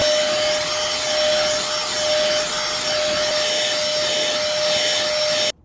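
A small handheld car vacuum with a brush attachment whines at a steady high pitch as it scrubs and sucks at carpet, loud and continuous until it cuts off abruptly.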